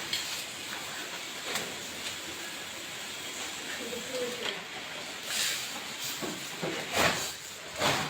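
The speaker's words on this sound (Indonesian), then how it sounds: "Nah, ini airnya sudah mendidih." Water boils in a pot while tapioca-flour filled cireng is prepared, giving a steady close hiss with occasional louder bubbling surges and faint background voices.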